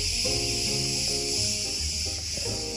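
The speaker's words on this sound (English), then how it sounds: "Listen to those cicadas, guys." Cicadas drone in a loud, continuous high-pitched buzz filling the background in Crete, while a low voice-like rumble comes and goes underneath.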